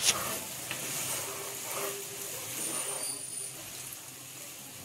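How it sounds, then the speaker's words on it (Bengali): Baim fish curry frying in spices while being stirred in a pan, giving a soft continuous sizzle with faint scraping strokes throughout. "মাছটাকে একটু ভালোভাবে নেড়ে চেড়ে দিচ্ছি, যাতে প্রত্যেকটা মাছের সাথেই মশলাগুলো খুব ভালোভাবে লাগে"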